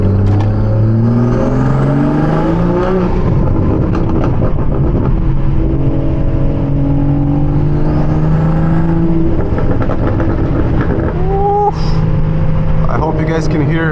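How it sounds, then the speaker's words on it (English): A hybrid turbo Toyota Supra accelerates hard through the gears in humid heat, loud close engine pitch rising and dropping at each shift with turbo whistles and whooshes, with no talk over it. "I hope you guys can hear all of these turbo noises."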